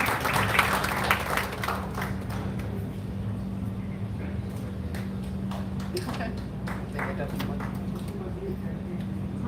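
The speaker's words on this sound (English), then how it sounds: "A big round of applause to them." Scattered clapping from a crowd at an evening event, fading into sparse, uneven claps and a few sharp taps, with voices talking underneath and a low steady hum throughout.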